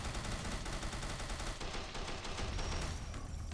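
Sustained automatic gunfire from an AK-style rifle in Fallout 4 rattles on without pause, loud and close, with no talk over it.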